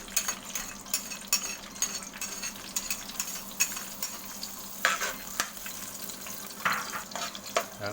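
Garlic sautés in oil with a steady close crackling sizzle, broken by scraping and clicking stirs of a utensil against the pan.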